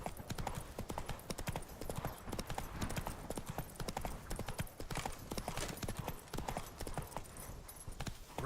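Horse Roach galloping in the video game Witcher 3, a steady rapid clip-clop of hooves with rhythmic thuds running throughout, loud and close.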